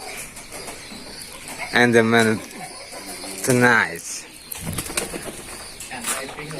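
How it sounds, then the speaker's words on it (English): Racing pigeons at a pigeon farm give two clear, close cooing calls, each about half a second long, over a steady background of birds and ambient noise, with someone speaking briefly between the calls. "this time we are playing at the racing pigeon farm"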